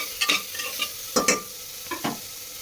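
A spoon stirs khichuri with ginger-cumin paste in a pan, giving several distinct scraping and knocking strokes in loose pairs over a faint background sizzle, close by, no speech.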